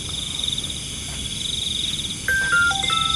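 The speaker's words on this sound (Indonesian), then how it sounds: "suara apa itu? Handphone saya." A short electronic phone ringtone chimes in near the end, a few stepped tones over a steady background of chirping insects.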